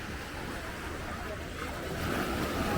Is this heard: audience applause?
no